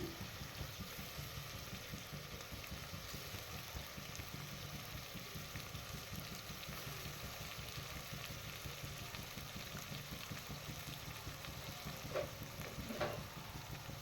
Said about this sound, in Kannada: ಚೆನ್ನಾಗಿ ಎಣ್ಣೆಲ್ಲೇ ನೀಟಾಗಿ ಫ್ರೈ ಆಗಬೇಕದು